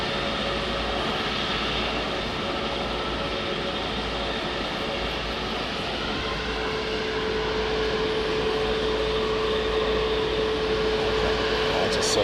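A British Airways Boeing 787-9 drones with a steady, continuous jet engine roar at moderate distance, a faint tonal whine running through it.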